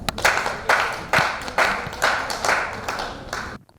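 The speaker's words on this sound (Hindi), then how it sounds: "आप ताली बजा सकते हो।" An audience at a public debate in a park claps in quick, rhythmic bursts, several loud waves of applause one after another before stopping abruptly.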